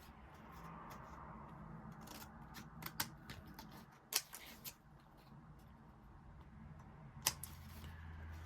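Scissors trim the overhang from a Christmas card panel in quiet, close snips, a handful of sharp clicks spaced irregularly over a soft background hiss.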